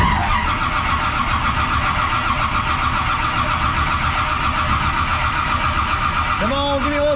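The engine of Double Trouble, a repaired race car, cranks and runs with a loud, steady, close mechanical roar that holds throughout, with a brief higher tone rising near the end.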